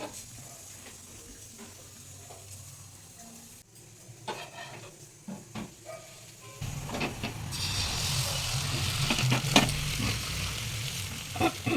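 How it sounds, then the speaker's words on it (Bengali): Egg toast frying in a pan for breakfast, a faint sizzle that swells into a louder, steady crackling hiss about halfway through, with scattered clinks and scrapes. "এখানে সকালের জন্য আমি এখানে ডিম টোস্ট করে নিচ্ছি।"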